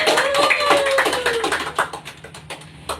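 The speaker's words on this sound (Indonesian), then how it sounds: "beri aplaus kita semua" Group of people clapping in a classroom, a burst of scattered handclaps that thins out and fades over a few seconds, with a voice speaking briefly at the start.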